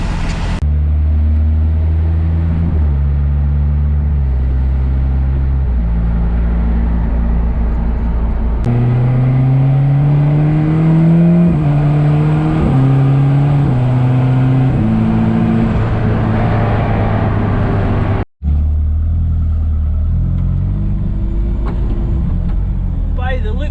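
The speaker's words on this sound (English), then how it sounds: "cruising along like 1500 RPM in 7th gear" A Mazda RX-7 with a dual-clutch transmission cruises at low revs in 7th gear, a steady low engine drone with shifting tones and road noise throughout, a brief cut near the end.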